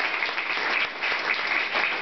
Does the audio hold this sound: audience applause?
yes